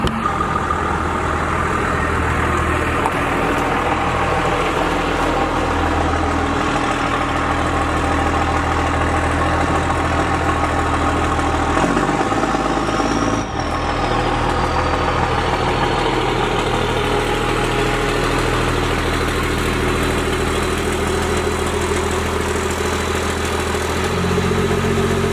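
A 2nd-generation Cummins diesel truck engine idles steadily, a loud continuous low rumble with a constant mechanical drone throughout, no voices.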